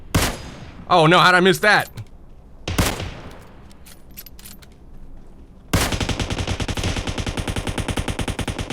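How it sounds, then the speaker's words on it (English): Bursts of automatic gunfire in PUBG Mobile, one short volley early, then a long rapid rattling stream of shots toward the end, loud and close, with someone briefly talking in between. "We got automatic fire."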